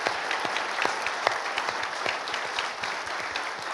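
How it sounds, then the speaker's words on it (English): Steady audience applause for Victor at a live-streamed event, dense continuous clapping holding at an even level throughout with no voices over it. "So a big round of applause for Victor, please."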